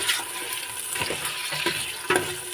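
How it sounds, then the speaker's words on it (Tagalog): Pork sautéing in a pan for Filipino sinigang na baboy: a steady close sizzle of frying with soft scraping and stirring clatter from a utensil, and no talking. "Gisa-gisa na natin yung baboy."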